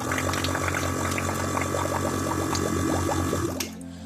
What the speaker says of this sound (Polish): ale będę teraz inaczej natleniał wodę.